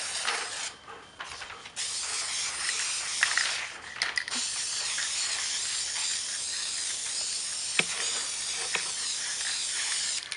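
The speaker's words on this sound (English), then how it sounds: "And spray it until you get a nice thick covering." A spray paint can hisses in long, steady bursts up close, coating a wooden log slice, the airy spray broken by a few short pauses and faint clicks.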